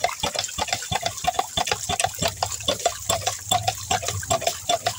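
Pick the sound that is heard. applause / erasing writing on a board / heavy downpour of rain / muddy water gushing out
muddy water gushing out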